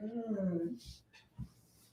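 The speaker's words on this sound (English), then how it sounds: "My dog is really sick." A sick dog gives a short, faint whimpering whine with a couple of soft muffled thumps after it.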